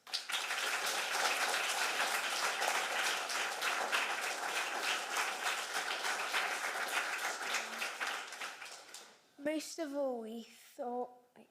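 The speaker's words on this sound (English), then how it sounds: "please join me in thanking them with a massive round of applause" Audience at a school leavers assembly giving a big round of applause, a loud, sustained burst of clapping that tapers off near the end, followed by a brief voice.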